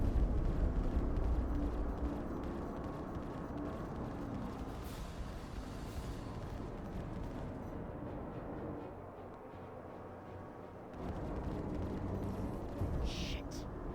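Ship cannons fire steadily at an enemy Terrapin in Star Citizen space combat, a dense sustained rumble and roar with a brief drop before resuming loudly, no talk.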